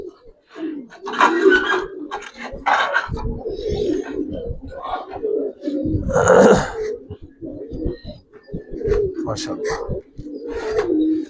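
Giribaz pigeons coo nearby in repeated low, throaty rolling calls, with wing flutters and a voice talking over them.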